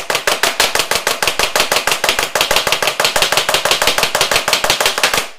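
A pan of cake batter shaken hard on a counter for Halloween ghost mini pumpkin cakes, a fast, loud, steady train of sharp rattling knocks lasting throughout.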